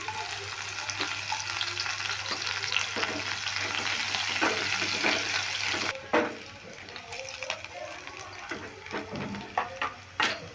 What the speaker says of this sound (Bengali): জিরেটাকে একটু ভেজে নেড়ে নিলাম ভেজে নিলাম এবার দিয়ে দিচ্ছি কাঁচা লঙ্কা কুচি